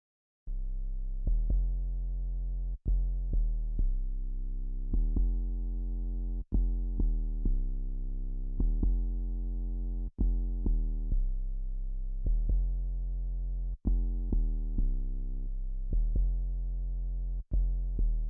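A deep, sustained 808 bass pattern blended with a brighter presence layer, notes restarting in a steady rhythm, played alone without drums or voices.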